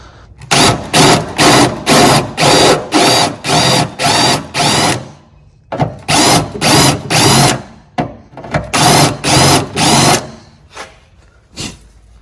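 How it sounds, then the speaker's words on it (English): A drill fitted with a spot weld bit cuts out spot welds on the body of a totaled Tesla Model 3 being rebuilt, loud and close, in repeated short bursts of whining grind with brief pauses between them. "this blade will just cut around it so it can pop it off. Not sure exactly what it's called, but spot weld bit or whatever."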